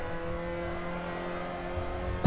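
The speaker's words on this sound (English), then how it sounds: "He's just powering on through there, pushing the car around the corner" A Mazda MX5 race car in the Assetto Corsa racing game holds a steady engine drone while powering through a corner, a continuous, fairly loud hum with no speech.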